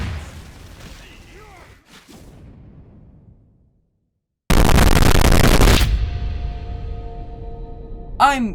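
Gunfire from a gun in the game Team Fortress 2, a loud dense burst of rapid shots lasting over a second, then ringing decay and a sharp whooshing sweep near the end, following a quieter stretch of voice-like sound.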